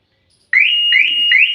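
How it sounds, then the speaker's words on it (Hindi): A Maruti Suzuki Baleno, locked, gives three loud electronic beeps after its lock and unlock buttons are pressed together, each a short rising chirp that repeats steadily at close range with no talk. "ये इंडिकेटर के साथ में बीप शुरू हो चुकी है।"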